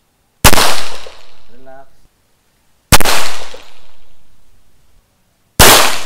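Three sharp, loud gunshots at an outdoor shooting range, spaced a couple of seconds apart, each with a long echoing decay; a voice speaks briefly between the first and second shots.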